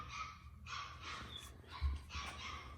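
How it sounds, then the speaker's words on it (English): Several young puppies yip and whimper close by in short, uneven bursts, a soft rustling bed of movement underneath, with a brief louder yelp near the end. "That's Chloe puppies."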